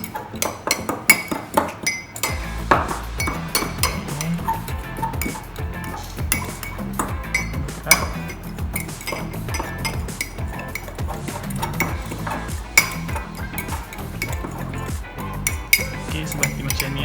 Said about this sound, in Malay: Dan kita gaulkan supaya sebati.